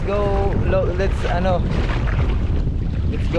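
A motorboat engine drones steadily under wind and splashing water on an open boat ride, with people talking over it near the start.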